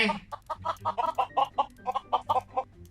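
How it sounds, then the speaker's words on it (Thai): Rapid chicken clucking from the video game Mini World: Block Art, a quick run of short clucks in an uneven rhythm, close and clear with no talking. "เดี๋ยววางอาหารให้ไก่กินกัน"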